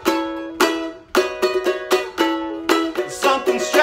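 A theme played as a sing-along tune on a plucked or keyed instrument, with a bouncy rhythm of short repeated chords and notes, close and moderately loud, with no voices.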